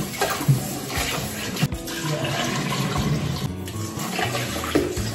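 Cold water pours from a tap in a lodging near Baguio in La Trinidad, a steady rushing flow with splashing under it. There are a few brief louder surges, and there is no talking.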